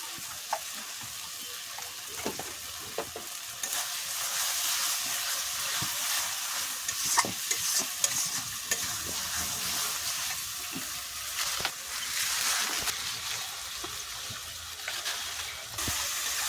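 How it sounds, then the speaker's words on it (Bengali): Spices sizzle and crackle steadily in hot oil while being stirred, for a Bengali jackfruit and prawn curry; a continuous close frying hiss with scattered spatters and scraping stirs, and no talking. "মশলা ভালো করে কষে নেব"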